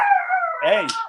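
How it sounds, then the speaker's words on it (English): A dog gives a single short, close howl that rises and wavers, ending in a yip-like upward break about a second in. "That's my dog."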